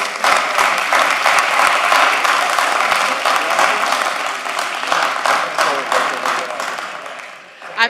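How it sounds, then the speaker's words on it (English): Loud, continuous applause fills a commission meeting room as the audience welcomes a city department, sustained for several seconds and tapering slightly near the end, with a few voices mixed in. "can we have a round of applause, please?"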